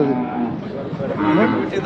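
A bull or cow moos loudly and close by in a long low call at a cattle market in Belhe, with voices talking around it.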